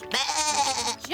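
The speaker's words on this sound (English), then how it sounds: "Olive heard a sheep bleating." A sheep bleats once, a wavering, nasal call of about a second, close and fairly loud in an animated farm setting.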